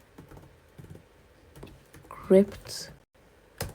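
Computer keyboard keys clicked in short, light bursts while someone builds a game in Roblox Studio, heard close and quiet under a person's speech.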